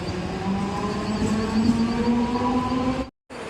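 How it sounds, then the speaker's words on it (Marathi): A train rumbles steadily with a rising mechanical whine as it pulls away from a station, then the sound cuts out briefly. "ट्रेन तो गई निकल गई."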